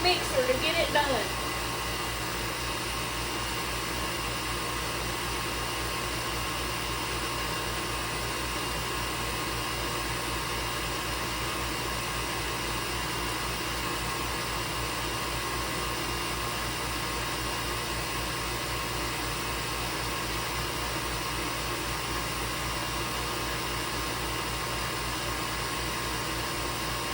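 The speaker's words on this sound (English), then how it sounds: "We're going to turn that speed up on that mixer to get it done." Electric mixer running at high speed, beating sugar and eggs for strawberry bread: a steady, unbroken whirring hum that holds constant for a long stretch after a brief clatter at the start, with no talking.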